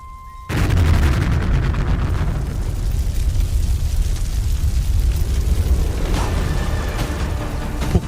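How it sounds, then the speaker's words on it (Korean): A large explosion in a pit, throwing up a huge burst of flame: a sudden loud boom, then a sustained roaring rumble and crackle that carries on for several seconds. "폭발하며 아주 큰 불줄기가 솟아올랐다"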